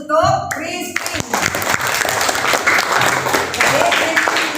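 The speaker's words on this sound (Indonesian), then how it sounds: "coba tepuk tangan untuk Christine." Students in a classroom applaud a classmate, Christine, after she talks about an article. A brief voice comes first, then dense, lively clapping carries on steadily to the end.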